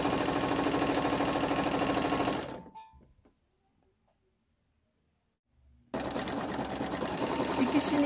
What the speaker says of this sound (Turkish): Şimdi böylece dikiyorum.